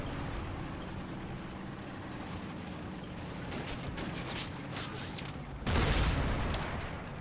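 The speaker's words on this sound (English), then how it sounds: "The Greyhound is shooting a tree." A Greyhound armored car fires in the Combat Mission war game. Rattling shots rise over a steady wash of battle noise, and a heavier blast lands near the end.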